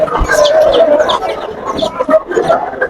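Several chickens cluck and chatter nearby at a pet and bird fair in Bangladesh, a busy overlapping flock with no one speaking.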